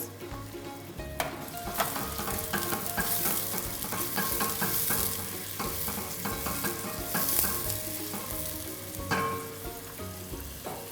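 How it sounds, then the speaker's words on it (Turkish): Chopped onion sizzles steadily in hot oil, with occasional clicks and scrapes of stirring over the continuous frying hiss. "Yağımız ısındı. Ben hemen Doğradığımız soğanımızı ilave ediyorum."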